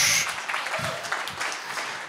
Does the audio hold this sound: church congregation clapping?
yes